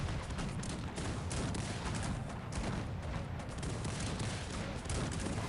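A battle in the Cossacks 3 strategy game, a 2v2 match with Turkey, with dense continuous musket volleys and booming cannon fire crackling loudly throughout, with no talk over it.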